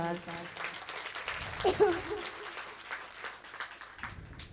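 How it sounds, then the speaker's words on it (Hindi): Audience applause at a mushaira poetry gathering, a moderate, steady patter of many hands clapping, somewhat distant, with a voice speaking over it partway through. "आप लोग अपने मुझे तालियां बजाकर बताइए कि ये गीत आपको पसंद है"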